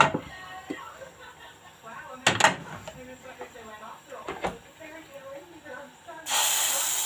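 Oil poured into a hot pan while lentil wraps are cooked gives a faint hiss and sizzle under a person talking, then a loud, steady sizzle near the end.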